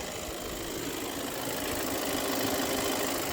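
Idle of a 2022 Volkswagen Passat B8 with a 2.0 TDI 150 hp diesel engine: a steady, soft, close hum with fine even clatter, no knocking or rattling, continuous throughout.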